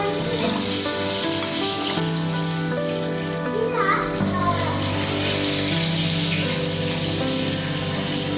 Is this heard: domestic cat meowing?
no